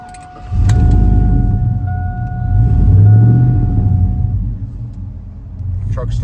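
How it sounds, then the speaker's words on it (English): A 2001 GMC Sierra pickup converted to a Chevrolet SS cranks and fires immediately, keys jingling and a cabin chime ringing as the engine settles into a deep, steady idle rumble close by. "Truck starts right up."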